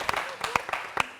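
Brief applause from a studio audience on a French reality-show reunion: a few scattered sharp claps in quick bursts, moderately faint, with no talk over them.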